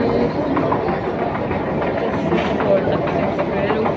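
Riding an Istanbul metro train, a loud continuous rumble of the moving carriage with rattling undertones, steady throughout, heard from inside the car.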